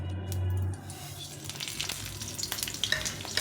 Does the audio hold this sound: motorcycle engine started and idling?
no